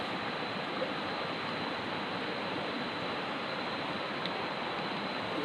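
Water flows in a steady, broadband rush that stays constant and fairly loud throughout, with no voices over it.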